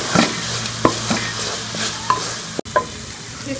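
Chicken mince with added spices sizzles loudly in a pan up close, broken by several sharp spoon scrapes and knocks as it is stirred and roasted, and a brief cut in the sound near the end.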